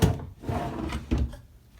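A storage drawer on a queen bed frame slides open or shut, making a short wooden rumble with two soft thuds close by.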